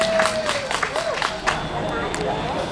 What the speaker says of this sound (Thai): ขอเสียงปรบมือดังนะครับให้กับพี่น้องท่านจากอินเดียตากนะครับ